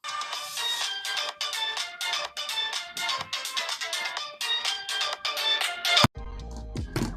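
Tinny, bright music plays from the stereo speakers of a TCL 50 LE budget smartphone, thin and lacking bass, with a rhythmic pattern of short bursts, then a sudden thump and change near the end.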